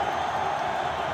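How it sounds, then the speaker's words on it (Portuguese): A football crowd roars steadily in a stadium during a Flamengo match, a dense, continuous wash of cheering voices at moderate distance with no single voice standing out. "E a torcida incendiou."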